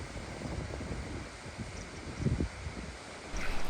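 Steady breezy wind rushing and buffeting outdoors on a chilly, sunny day by a river on the Watkins path of Snowdon, a continuous broadband roar that swells slightly toward the end.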